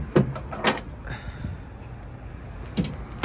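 The lockable tub lid cover on a 2020 Mitsubishi Triton GSR 4x4 ute being shut and latched: a few close, sharp clunks and clicks with a short rattle between them, fairly loud in a quiet outdoor setting, no voices.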